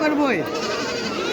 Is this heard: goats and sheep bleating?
yes